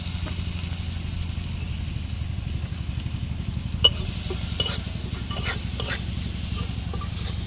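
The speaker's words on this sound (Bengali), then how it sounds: "এই যে পেঁয়াজ দিয়ে দিলাম।" Onions frying and being stirred in a small amount of oil in a home kitchen pan, a steady close sizzle with occasional scraping clicks from the stirring spoon.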